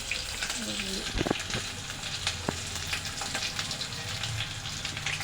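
Onion frying in a pan for lentil sambar, a steady close sizzle with occasional clinks of a utensil, a voice faintly present near the start.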